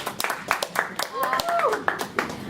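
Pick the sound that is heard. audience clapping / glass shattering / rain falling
audience clapping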